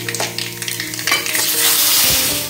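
Mustard seeds and dried red chilli crackle and sizzle in hot mustard oil, with a few sharp pops and scrapes of stirring before the frying hiss swells and fills the close, loud sound.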